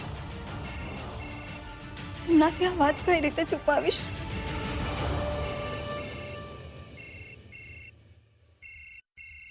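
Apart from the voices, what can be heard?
telephone ringing repeatedly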